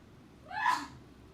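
A single sharp sneeze, a brief breathy burst rising and fading within half a second, fairly close over low background hum.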